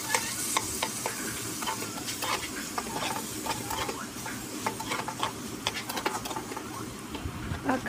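Tamarind being stirred into a sizzling frying pan, with steady frying hiss under repeated scraping and clicking strokes of a spoon against the pan, close and continuous with no talk.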